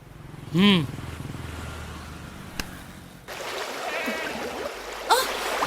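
A mobile phone drops into water with a sharp, brief splash, followed by a stretch of trickling, sloshing water noise under faint background hum.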